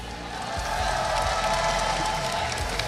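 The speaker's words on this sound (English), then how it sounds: "Can you hear a bit cheer for Team Secret?" Esports crowd at an Honor of Kings Invitational semi-final cheering and applauding for Team Secret, a steady dense roar of clapping and voices filling a large arena at constant loudness throughout.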